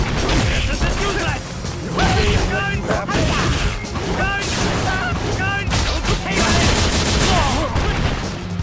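Gunfire from the Street Fighter V video game fills the clip as loud, dense bursts of shots and crashes over game music, with a voice shouting throughout.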